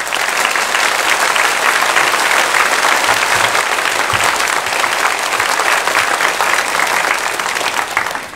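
A church congregation at a Sunday worship service applauds loudly and continuously for about eight seconds to welcome the pastor, with dense, even clapping throughout.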